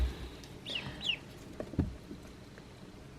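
Small ducks kept on a goat farm make faint, scattered quacks and squeaky calls, a few short bursts over a quiet outdoor background with no talking.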